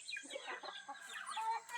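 Native chickens clucking close by, a busy overlapping stream of short calls and chatter with no pauses.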